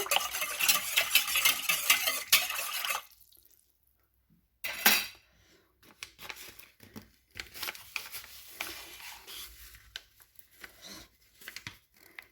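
Oil whisked into a sugar mixture in a bowl for fruit pie dough: a dense run of rapid scraping and clinking whisk strokes for about three seconds, a short pause, then a brief loud burst followed by lighter intermittent stirring taps.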